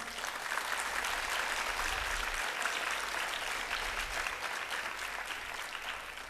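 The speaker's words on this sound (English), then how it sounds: "I think Sneha deserves a big round of applause." A dense, sustained wave of audience applause fills the hall at a Bharatanatyam arangetram dance recital, many hands clapping together at an even, full volume throughout.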